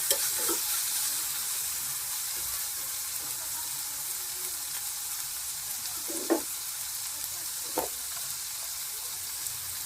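Tomatoes stirred in a frying pan with spices, a steady close sizzle throughout with a few brief scraping clinks of the spoon.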